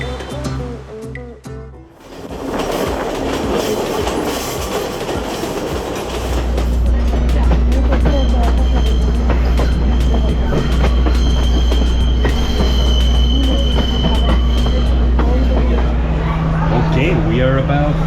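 A Sri Lankan train on the Kandy to Ella line rolls along the rails with a loud, steady rumble, clickety-clack joints and occasional wheel squeal, heard from aboard, the roar deepening partway through.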